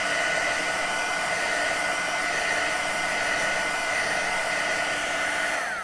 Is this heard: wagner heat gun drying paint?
yes